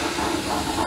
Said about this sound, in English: Just then, Douglas puffed up.